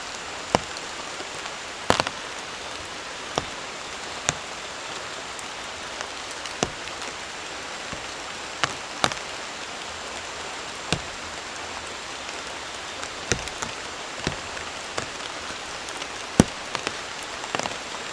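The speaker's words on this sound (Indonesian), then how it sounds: "Wow, hujannya lebat." Heavy rain pours down steadily on a campsite in the forest at night, a dense even patter on surfaces with scattered louder drips and taps, continuous and close with no voices.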